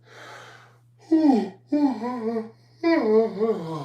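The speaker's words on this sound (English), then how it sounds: "I just keep yawning" A person yawns close up, a drawn-out voiced breath broken into several rising and falling stretches after a soft inhale.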